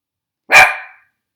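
A single excited bark from a pet dog, a short sharp burst close by that fades quickly, with no voices around it.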